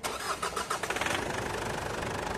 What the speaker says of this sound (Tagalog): pwede na natin i-start itong makina